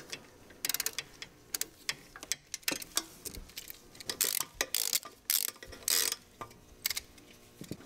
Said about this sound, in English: Loosen up the last bolt.